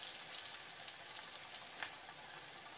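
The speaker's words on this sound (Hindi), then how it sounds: "ये ऐसे गोल गोल करके और इसमें डालेंगे। आंच को मैंने धीमा कर दिया क्योंकि तेल थोड़ा ज्यादा गर्म हो गया था।" Muthiya dumplings frying in hot oil over lowered heat, a steady soft crackling sizzle throughout with a few faint pops, no talk.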